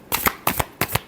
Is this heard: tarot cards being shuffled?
yes